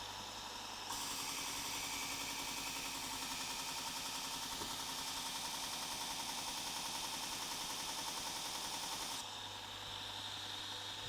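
Sorby ProEdge sharpening machine running steadily while a chisel is ground, a loud continuous whirring hum with a brighter abrasive hiss during contact, sustained throughout.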